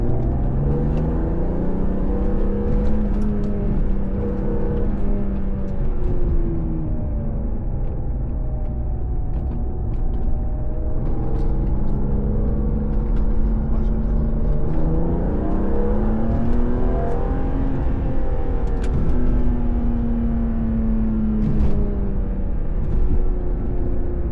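A BMW E36 M3 revs hard in a launch-control start, its engine note climbing and dropping through several loud, close sweeps over about twenty seconds, alone without talk.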